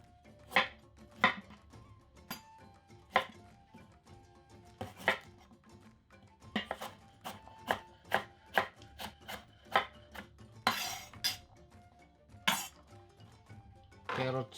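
A knife chops a carrot on a cutting board in a string of sharp, close, uneven thuds, with a few glassy clinks near the end and brief talk between the cuts.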